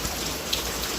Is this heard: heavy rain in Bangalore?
yes